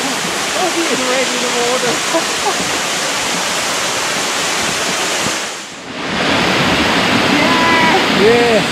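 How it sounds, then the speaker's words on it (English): Horsetail Falls, a Tasmanian waterfall beside a narrow rock-wall walkway, roars loudly and continuously up close, briefly dipping before surging back, with excited voices calling out over it. "We made it to the Horsetail Falls."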